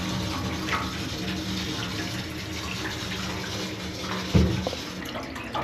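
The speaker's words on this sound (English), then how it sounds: "While I'm filling this tub" Tap water pours steadily into a cold plunge tub, a constant rushing splash with a brief louder slosh near the end, heard close and without speech.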